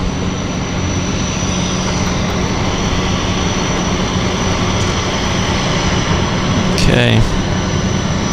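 A small plane flying over Vancouver's downtown harbour, a constant loud engine drone that fills the scene, with a brief whine near the end and a voice speaking briefly.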